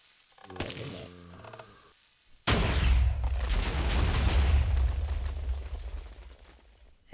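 A TNT cannon in a video game fires with a sudden, loud explosive blast that rumbles and slowly fades over several seconds, after a brief tonal lead-in.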